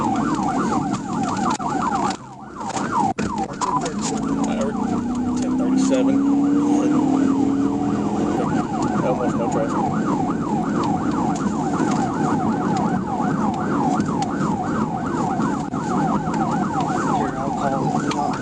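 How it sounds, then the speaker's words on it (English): Police car siren wailing in a rapid, continuous yelp throughout a motorcycle pursuit, loud and close over engine and road noise, with brief radio chatter in the background. "Sirens on."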